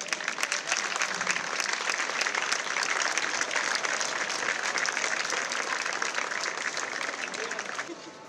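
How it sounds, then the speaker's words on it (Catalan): Sustained applause from an outdoor crowd at the Festa Major proclamation in Móra la Nova, honoring the award winners, a dense steady clatter of many hands that holds for several seconds before tapering off at the end. "els demano un fort aplaudiment per elles"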